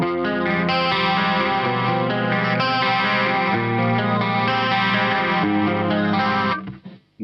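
An electric guitar on a 1987-88 ESP Mirage Custom superstrat, played through its EMG 81 pickup alone, rings out as sustained distorted chords with effects, loud and continuous before cutting off at the end.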